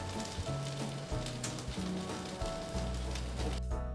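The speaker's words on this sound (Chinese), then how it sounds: "取一个平底锅，放入少许的油抹开后，放入串好的团子煎一下" Dango skewers pan-fry in a thin film of oil in a flat pan, giving a steady, dense sizzle that continues throughout alongside faint background music.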